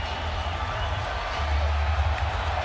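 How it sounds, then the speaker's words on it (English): Basketball arena crowd during an NBA game between the Lakers and Clippers, a steady swelling roar of cheering that builds toward the end, with faint voices underneath. "Crowd getting into it."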